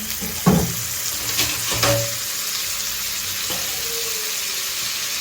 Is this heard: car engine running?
no